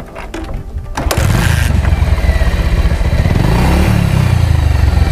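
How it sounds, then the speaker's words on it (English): A Bajaj Pulsar 150 motorcycle with about 90,000 km on it starts up with a short clatter. Then the exhaust settles into a loud, close, steady single-cylinder thump with a slight rise in revs near the end. "we're gonna just show you the exhaust notes"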